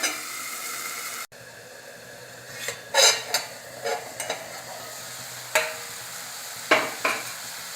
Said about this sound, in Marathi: पुन्हा एकदा छान हलवून घेऊया